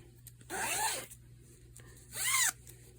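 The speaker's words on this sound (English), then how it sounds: "Zipper functions very well." A zipper sewn into a hand-knitted item is zipped twice, two separate smooth rasping strokes about a second each, close and fairly quiet with a pause between them.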